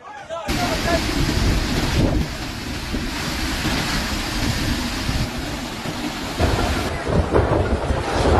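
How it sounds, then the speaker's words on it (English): Category 5 Hurricane Melissa strikes Jamaica from the Caribbean Sea, a loud, continuous roar of howling wind and storm buffeting the microphone, with surging gusts throughout. "The wind began to howl before dawn"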